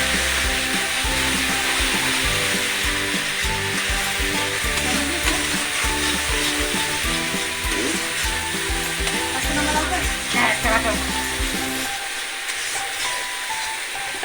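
A tomato masala paste of ginger, onion and cumin frying in a kadhai makes a continuous sizzle with scraping and stirring of a spoon against the pan throughout, easing off near the end.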